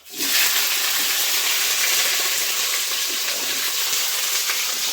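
Chopped cauliflower, spring onion, peas, potato, green chilli and coriander land in hot oil with cumin tempering, setting off a loud, continuous hissing sizzle right from the start.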